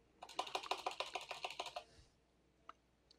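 Fingers type a short burst of about a dozen quick, crisp keystrokes on a computer keyboard, close and clear, then stop, leaving a couple of faint isolated clicks afterward.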